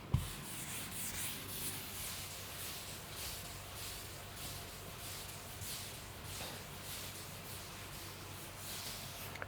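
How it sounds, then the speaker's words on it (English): A question is rubbed off a classroom board in quick, rhythmic back-and-forth strokes that scrape steadily and closely, with no talking. "I am going to rub this also."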